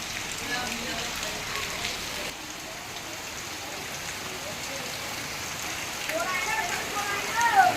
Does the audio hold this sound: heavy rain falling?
yes